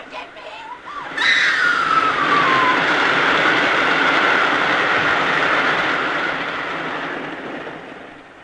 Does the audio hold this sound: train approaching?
yes